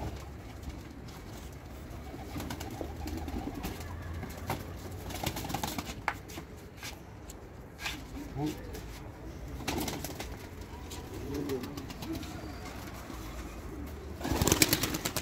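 Pigeons coo softly nearby with occasional wing flaps and rustling, a louder flurry of flapping near the end.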